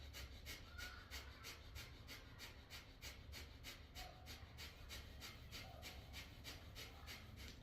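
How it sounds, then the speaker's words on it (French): Strong rhythmic breathing during a standing yoga flow, with forceful inhales and exhales repeating in a quick, even pulse. It sounds close but faint, with no talk. "L'expire aussi forte que l'inspire."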